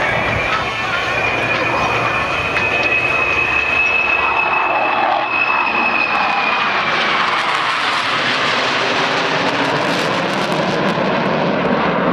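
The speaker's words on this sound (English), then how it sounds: "The Bristol fighter, which made its operation debut." A Bristol Fighter biplane engine flying at a military airshow, a loud continuous drone with a steady whine that shifts in pitch as it passes, over broad crowd and wind noise.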